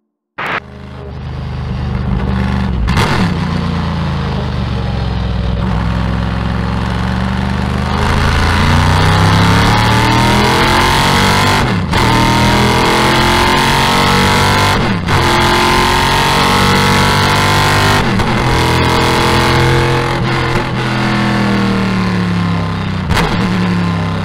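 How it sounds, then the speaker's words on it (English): A Corvette C5-R race car's exhaust roars loud and close, revving up and down through repeated gear changes with sharp shift breaks over a sustained, rising and falling engine note. "The C5-R also sounds incredibly good from the exhaust."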